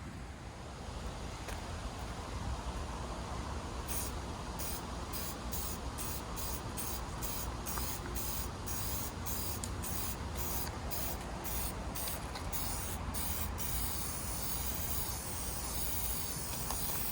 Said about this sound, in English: we'll spray it down and let it sit